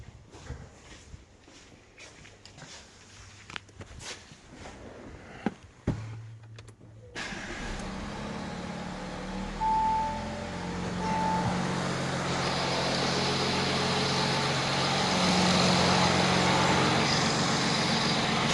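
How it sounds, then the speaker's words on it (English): After some light clatter and shuffling, an Audi A6 C8 engine comes to life and settles into a continuous, fairly quiet running drone that holds steady to the end. "we need to start a car"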